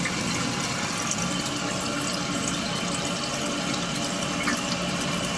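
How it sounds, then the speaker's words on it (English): Toilet tank refilling after a flush, with food coloring added to the water: a steady, loud broadband rush of running water filling the tank, continuous for the whole stretch with no talk. "As you see, as the water fills up, the tank turns blue."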